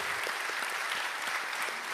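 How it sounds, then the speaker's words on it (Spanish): A brief burst of crowd applause, many hands clapping steadily at moderate volume. "Aplauso para el hermano."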